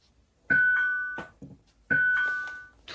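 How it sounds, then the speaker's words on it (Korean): A two-tone ding-dong doorbell chime rings twice in quick succession, clear and fairly close, each ring sustaining and fading in an otherwise quiet house. "초인종이 울렸습니다."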